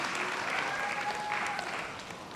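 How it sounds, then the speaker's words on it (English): Steady applause from a conference audience for a panel on political leadership in Africa, a dense even wash of clapping that tapers slightly at the end. "Please, another round of applause."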